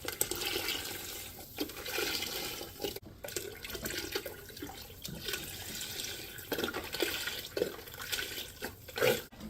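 A steady stream of beef broth pours and splashes into a soup pot for several seconds, close by, with a gurgling rush and no talking.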